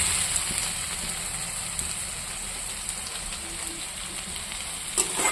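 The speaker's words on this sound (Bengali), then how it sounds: "একটু ভাজা ভাজা করব।" Food fries in a pan with a steady, rain-like sizzle and crackle throughout, close and moderately loud, with a few soft clinks near the end and no talking.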